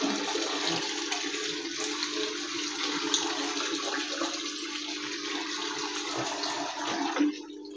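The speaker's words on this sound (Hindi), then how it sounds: "इस पूल के अंदर दोस्तों मैं वाटर डाल रहा हूँ" Water pours steadily into a fish pool, a continuous rushing, splashing flow that stays loud and even from start to finish with no talking.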